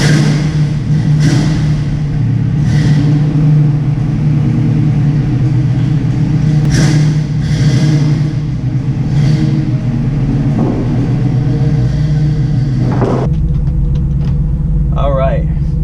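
A car engine idles and runs at steady volume close by, with a low hum throughout and a few revving swells before cutting off near the end, while people talk over it.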